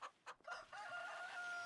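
Chickens in the farming game Farming Simulator 25 give a few short clucks, then a drawn-out crowing call, faint and distant, with no talk over it.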